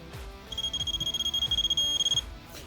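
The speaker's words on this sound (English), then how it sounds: "Got the torque wrench set to 75 foot-pounds. I'll torque these lug nuts down." A torque wrench set to 75 foot-pounds tightens lug nuts on a BOSS snowplow: rapid, rhythmic ratcheting pulses under a steady high electronic beep that lasts a couple of seconds before stopping.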